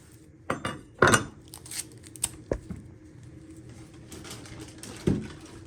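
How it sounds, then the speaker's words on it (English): A knife chops the end off a shallot on a cutting board, a few sharp, close knocks spaced irregularly with light kitchen clatter between them and no talk. "You're first going to chop your end off."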